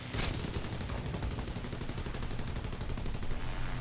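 Rapid aircraft machine gun fire from 7.7 mm guns on a Mosquito Mk 6 strafing a pillbox in War Thunder, a loud continuous stream of shots lasting several seconds with no talk.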